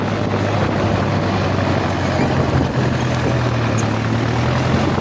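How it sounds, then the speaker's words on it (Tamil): Strong wind buffeting the microphone outdoors beside a running vehicle, a loud, continuous low roaring rumble with an engine-like drone that never lets up for the whole stretch. "காத்து வேற எடுத்துக்கிச்சு பயங்கரமா"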